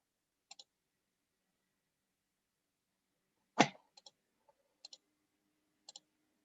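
A computer mouse clicks sharply in a quiet room, with several isolated double clicks spaced out over a few seconds and one louder thud near the middle.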